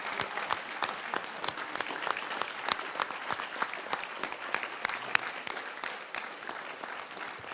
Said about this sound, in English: let me ask you all to stand up, to clap